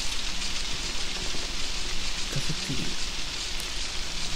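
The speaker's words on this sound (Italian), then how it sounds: "Questa pioggia non va tanto d'accordo con" Steady heavy rain in the horror video game Outlast pours evenly throughout, a dense broadband hiss, while a voice mutters a few words briefly over it.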